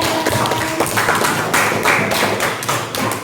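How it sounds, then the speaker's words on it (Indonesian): Students in a classroom clap for a group together: a dense, steady patter of many hands that stays loud and close for the whole stretch. "berikan tepuk tangan untuk kelompok yang"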